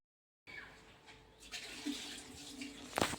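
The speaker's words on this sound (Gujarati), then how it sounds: "તો એ જો પાણી ભરે છે" Water runs steadily into a container, rising gradually in level, with a few clanks and splashy knocks toward the end.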